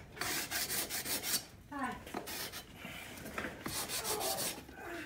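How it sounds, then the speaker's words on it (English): Rough, scratchy strokes of a sanding block rubbing back and forth across a foam core wing, close up, in irregular bursts with brief pauses. "go across it with the sanding block"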